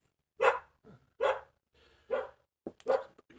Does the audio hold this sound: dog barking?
yes